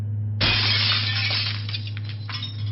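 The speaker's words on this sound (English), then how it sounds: "I heard the glass shatter." A sliding glass door is smashed: a loud, sudden shatter bursts in close by, followed by a long spill of tinkling shards and clinks over a low steady hum.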